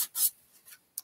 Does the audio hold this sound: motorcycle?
no